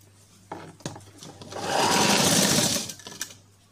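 A sewing machine joins fabric strips for a blouse in one close, loud burst of stitching of about a second, framed by small handling clicks and taps.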